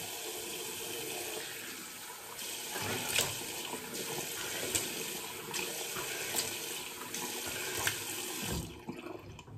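Tap water runs steadily into a sink as the face is wetted before a wet shave, a close, continuous splashing rush with brief surges, cutting off near the end.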